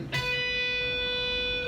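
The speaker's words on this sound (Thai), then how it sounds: "แล้วดัน มันจะเกิดเพี้ยนและไม่ถึงโน้ตของมันนะครับ" A guitar string is picked and bent but falls short of the target pitch, leaving a sour, slightly off note that rings steadily for over a second, heard alone with a light pluck at the start and a faint noise at the end.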